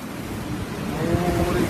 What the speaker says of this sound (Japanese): 雨が猛烈に降っています。